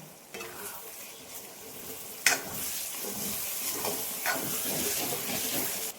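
Chopped vine-grown vegetable for a spicy Konkan-style curry stirs and sizzles in a hot pan as it releases its own water, a steady close frying hiss with occasional sharp scraping clinks of a spoon.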